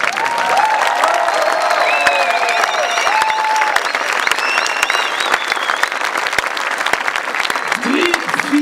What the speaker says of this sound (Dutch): En het grootste applaus dat ik ooit heb gehoord.